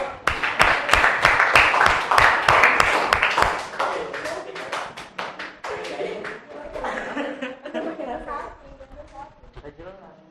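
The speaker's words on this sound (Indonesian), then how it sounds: "Beri tepuk tangan." Classroom applause for a student group about to present in an Indonesian teacher-training performance test, dense clapping for about four seconds that thins into scattered claps with chuckles and background voices.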